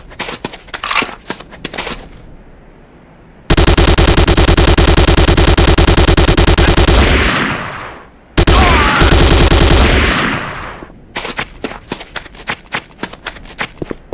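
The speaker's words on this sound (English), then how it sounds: "The next weapon is the Corbretti AR-70" Corbretti AR-70 rifle firing in the video game Renegade, with two long, loud sustained bursts of automatic fire that trail off. Shorter clicks and clatter come before and after the bursts.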